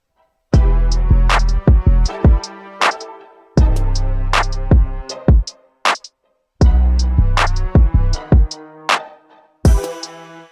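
A mastering-stage beat plays with stereo separation presets applied, looping punchy drum hits over deep bass in repeated bars, loud and clean with short silences between phrases and no talking.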